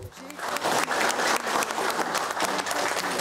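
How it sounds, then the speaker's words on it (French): Schoolchildren on Takapoto clapping and cheering together, a dense, close burst of applause with bright shouts running through it for a few seconds. "Ça a fait plaisir de les voir acclamer une histoire de leur terre"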